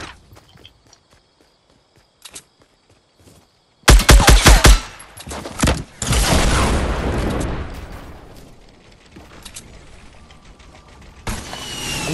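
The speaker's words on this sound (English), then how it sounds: "I'm just shooting my RPG over there" RPG rocket launcher firing in a battle royale video game, a sudden loud blast burst followed by a roaring, decaying rumble of explosion over several seconds, with scattered game clicks and footsteps before and a louder swell at the end.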